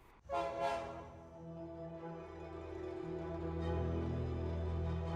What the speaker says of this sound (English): A low whistle cut through the silence. The whistle grew louder, accompanied by a rhythmic chugging.